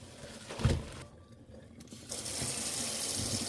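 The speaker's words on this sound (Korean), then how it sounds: "찬물에 2번 헹궈줘요." Cold tap water runs in a sink to rinse blanched fatsia shoots. A single clunk comes first, then a short quiet gap, and then a steady splashing stream that keeps running at close range.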